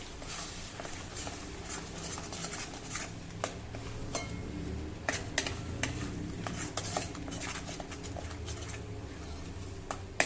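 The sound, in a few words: sautéing ground masala paste in a pan on low flame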